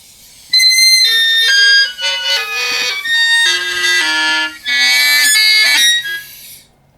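A shrill, reedy bagpipe chanter reed fitted in a practice chanter plays a run of high, buzzy notes, loud and close, with brief breaks between phrases.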